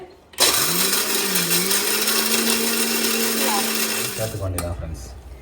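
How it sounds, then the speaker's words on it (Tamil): A mixer grinder runs loudly and steadily for about four seconds, grinding peanuts with jaggery and cardamom, then winds down and stops. "வேர்க்கடலை கூட போட்டு அரைச்சிக்கிறேன், இன்னும் கொஞ்சம் நல்லா வாசனை வர்றதுக்காக"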